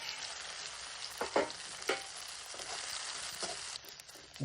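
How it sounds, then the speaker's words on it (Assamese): Soybean chunks fry in a pan with no extra spices, a continuous close sizzle punctuated by a few louder crackles and stirring scrapes, no voices present. "চয়াবিনটো এক্সট্ৰাকৈ মছলা নিদিয়াকৈ ভাজি ল'ম।"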